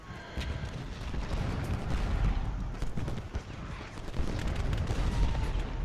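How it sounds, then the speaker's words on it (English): Confederate artillery shelling across a Gettysburg battlefield in Ultimate General Gettysburg, a continuous roar of overlapping cannon booms and gunfire, dense and rumbling throughout with sharper reports breaking through. "Confederates are shelling"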